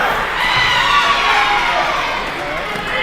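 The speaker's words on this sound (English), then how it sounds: "And the crowd goes wild." A crowd roars and cheers at a girls' high school wrestling dual meet in a gym, a loud, sustained swell of shouting voices with high-pitched yells riding over the noise.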